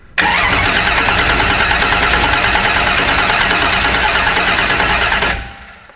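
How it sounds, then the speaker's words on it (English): A drag race car built for no-prep racing cranks over on its starter and catches, a loud, steady engine roar held close for about five seconds before cutting off abruptly. "All right, go ahead and just hold down the starter."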